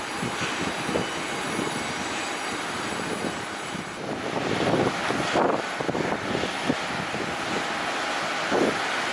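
SkyWest regional jet at Cleveland airport, its engine a steady broadband roar, loud and continuous throughout, with no voices.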